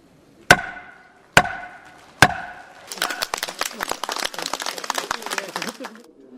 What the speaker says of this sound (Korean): 드디어 의사봉 소리가 울려 퍼집니다